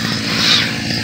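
A grass cutter's small engine drones steadily and loudly nearby in a garden plot, a continuous buzzing whine with no talk.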